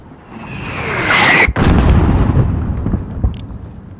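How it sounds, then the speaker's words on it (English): Mortar round in Modern Warfare arrives with a rising whistle, then bursts in a single loud, close explosion, followed by rumbling debris and a trailing roar that slowly fades. "There's still a mortar out there."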